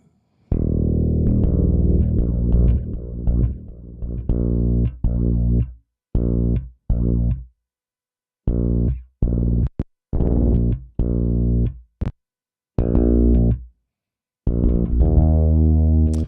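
Short synth or instrument phrases processed with built-in chorus and echo effects in music production software, played in loud separate bursts with silent gaps between them and no voices.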